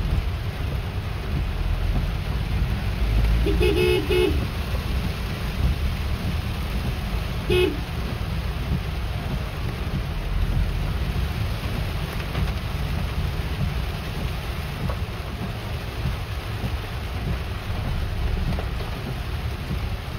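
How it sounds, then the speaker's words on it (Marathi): Heavy monsoon rain pours steadily over a road near Mangaon on the Mumbai–Konkan route, a loud, unbroken wash of noise lasting throughout with no speech. "पाऊस मुसळधार आहे. पावसाचा कमी होतच नाही."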